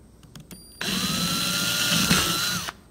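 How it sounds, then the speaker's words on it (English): A power drill whirs loudly and close for about two seconds, a steady high whine that cuts off abruptly, after a few faint clicks, drilling holes in a Jeep TJ center console. "Go ahead and drill the rest of the holes."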